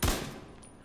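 An assault rifle lands a critical headshot in the video game The Division 2, a single loud gunshot burst with a fast decaying tail.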